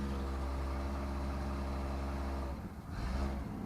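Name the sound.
Chevy Nova six-cylinder engine idling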